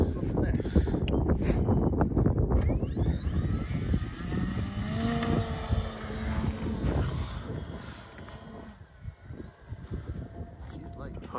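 Extreme Flight 84-inch Turbo Bushmaster RC plane taking off at full flaps, its motor rising to a loud steady drone with a climbing whine while people talk nearby amid wind buffeting on the microphone.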